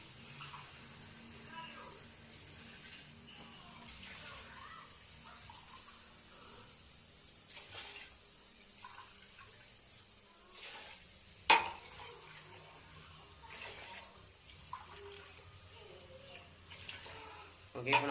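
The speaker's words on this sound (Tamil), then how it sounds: "இப்போ நம்ம வந்து 6 டம்ளர் தண்ணி ஊற்றியாச்சு" Water, six tumblers in all, is poured into rice for biryani, giving a running, splashing sound that rises and falls, with a sharp clink of a vessel partway through.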